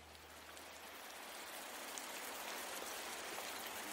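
Steady rain falls at dawn in Japan, a dense even patter of drops with no voices, building slightly louder over a few seconds.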